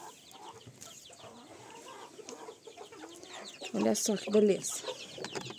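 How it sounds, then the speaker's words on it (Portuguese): A broody hen sitting on her nest in a backyard coop gives low, throaty clucks and grumbles, growing louder toward the end, while someone talks softly nearby. "Que a galinha tá choca, que eu falo que a galinha tá choca."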